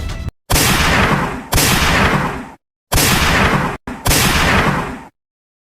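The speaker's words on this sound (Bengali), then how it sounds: "করেছি গুলি, হয়নি মিস।" Loud gunfire sound effects aimed at security guards during an ATM robbery: four sharp broadband blasts with abrupt onsets, each ringing for about a second, separated by short silences.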